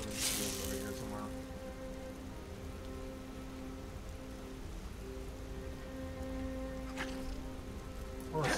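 Steady heavy rain pours in Skyrim, a dense continuous hiss with faint tonal game music beneath and brief brighter splashes near the start and end.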